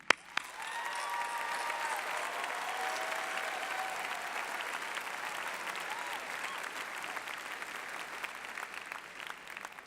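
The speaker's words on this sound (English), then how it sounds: "Please join me in a round of applause for the faculty." A large audience at a college commencement ceremony claps in a sustained, even round of applause lasting nearly ten seconds, fairly distant and without speech.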